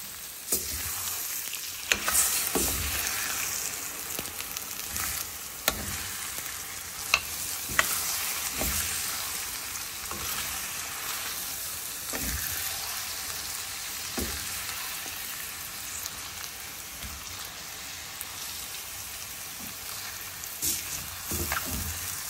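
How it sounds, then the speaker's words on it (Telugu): Cauliflower frying in a pan, with eggs going in, makes a continuous soft sizzle broken by occasional sharp utensil scrapes and taps, with no voices. "కాలీఫ్లవర్ చక్కగా ఫ్రై అయింది. ఇప్పుడు డైరెక్ట్గా ఎగ్స్ కొట్టుకుని పోసుకోవడమే."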